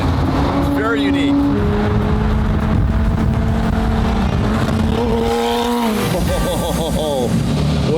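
Straight-piped McLaren Senna hypercar engine rumbling deep and loud from inside the cabin, with rising and falling rev sweeps while people talk over it.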